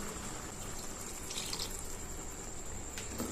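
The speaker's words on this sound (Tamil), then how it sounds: "நான் மிக்ஸி ஜார்லயே கொஞ்சமா தண்ணி சேர்த்து இது கூட ஆட் பண்றேன்." Tap water runs softly into a mixer jar to thin a bottle gourd gravy, a faint steady stream with a light hiss and a few small drips.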